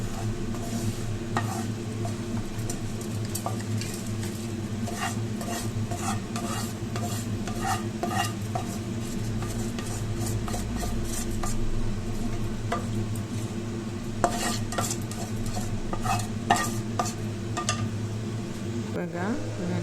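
Masala for a brinjal ennegayi curry stirred as it fries in a pan, with steady scraping and soft sizzling running throughout under a constant low background hum.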